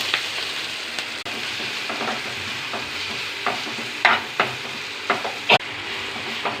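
Drumstick leaves with a pinch of ginger and turmeric sizzle steadily in a pan, with scraping stirs and a few sharper clinks near the end, close and alone without talk.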